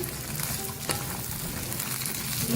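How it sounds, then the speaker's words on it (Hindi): Okra (bhindi) cut into medium pieces frying in hot oil, a steady, moderately loud sizzle close by with a brief clink partway through. "अब इसको फ्राई करेंगे। जैसे भिंडियाँ हमारी फ्राई हो जाएंगी"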